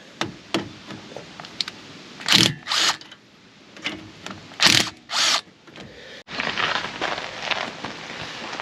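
Wrench working loose a wheel nut on a car with aluminum wheels, a series of sharp metallic clicks and ratcheting bursts at close range, irregular and separated by quiet pauses, ending in a rougher sustained grinding rattle.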